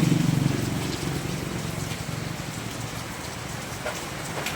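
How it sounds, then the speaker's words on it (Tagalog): Heavy rain pours steadily near the Pacific coast, a dense constant hiss of drops on surfaces with no voices. "sobrang malakas ang ulan"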